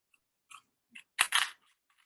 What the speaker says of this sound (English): So I'm going to take a pair of scissors and just cut these.